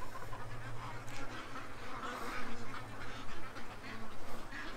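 Ducks quack in a yard, faint and somewhat distant calls scattered through a steady outdoor hiss with insect-like buzzing.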